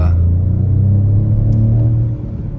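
Hard acceleration in a 2021 Peugeot 2008 GT Line brings a loud, droning engine note heard from the cabin, holding steady for about two seconds before easing off.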